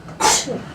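A single short sneeze bursts out nearby in a room during a morning staff meeting.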